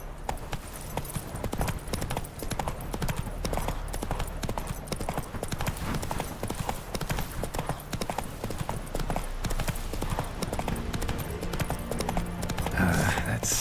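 Roach the horse gallops in The Witcher 3, with steady, rapid hoofbeats clattering close and loud throughout, a brief whinny-like flourish near the end.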